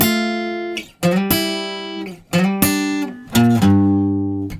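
Electric guitar plays the Fortunate Son intro riff, hybrid picked: bright, twangy sustained chords struck in four punchy groups with short gaps, ringing close and alone.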